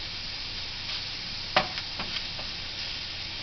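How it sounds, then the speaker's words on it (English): Food being stirred in a pan while making a copycat Taco Bell enchirito, with a few short scraping clinks of a spoon over a steady low sizzle. "Gonna stir this up."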